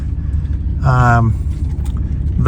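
A truck driving home at night, carrying beehives in the back, gives a low steady rumble of engine and road noise from inside the cab, while someone speaks briefly over it.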